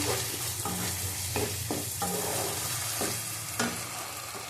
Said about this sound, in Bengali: এই যে আলুগুলি সব দিয়ে দিল এটা দিয়ে ভালো করে কষিয়ে নেবো